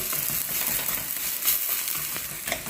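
Grated-style potato pancake frying in a pan, giving a steady close sizzle with crackling pops throughout and no voices.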